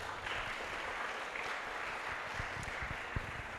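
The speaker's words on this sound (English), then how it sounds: "Please give big applause for our speaker." An audience at a healthcare conference claps steadily, a dense, even wash of applause that holds at moderate loudness throughout.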